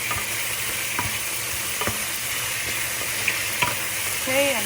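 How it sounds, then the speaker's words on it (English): Pork collar stir fry being stirred in a hot pan, with a steady sizzle beneath repeated close scraping clicks of a utensil against the metal and a brief squeaky scrape near the end. "I'm just going to stir it up."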